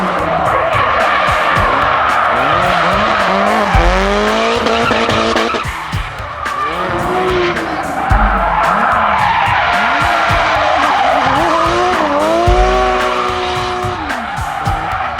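A car drifting in the CarX video game, loud revving engine with repeated gear shifts and long tire squeals as it slides, sustained and close with no voices.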